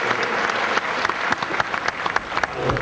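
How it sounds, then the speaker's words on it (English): An audience applauds with dense, steady clapping, a few sharper individual claps standing out from the crowd throughout. "Applause."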